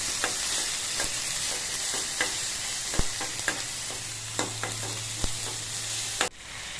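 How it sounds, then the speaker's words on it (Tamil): Goat spleen frying with ginger garlic paste in a pan sizzles steadily, with a spoon stirring and scraping in irregular clinks before the sizzle abruptly drops near the end. "நல்லா ஃப்ரை பண்ணிக்கோங்க இஞ்சி பூண்டு பேஸ்ட் ஆட் பண்ணிவிட்டு"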